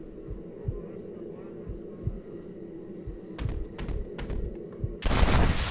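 Gunshots ring out during a duel in the video game Red Dead Redemption: a few sharp reports in quick succession, then a louder burst of fire at the end over low rumbling background sound.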